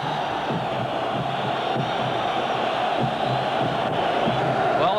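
Football crowd at Hampden Park during a 1981 World Cup qualifier between Scotland and Northern Ireland, as trouble breaks out: a dense, steady roar of many voices with shouts rising throughout, loud and continuous.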